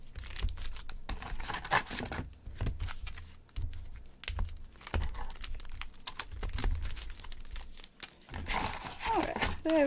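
Trading cards for Pokémon and Yu-Gi-Oh being shuffled by hand, giving close, crisp bursts of riffling and snapping paper in uneven rhythm, with bits of quiet talk between them.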